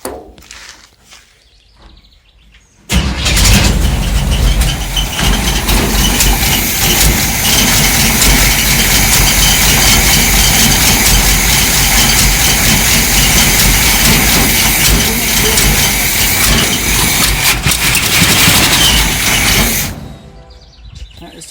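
A 1958 Chevrolet Biscayne engine with a carburetor whose secondaries dump fuel at idle starts and idles loudly and close for about seventeen seconds, a rough steady rumble, then shuts off.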